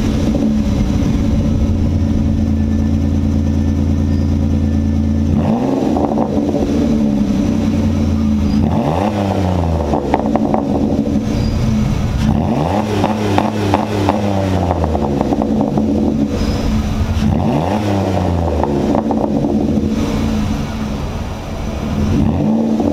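A lifted Ford Escape with a 3.0 engine revs up about four times in a row, each rise pulling from a steady idle to around 3,000–4,000 RPM before falling back, loud and close with no talking.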